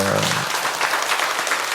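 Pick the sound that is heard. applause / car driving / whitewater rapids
applause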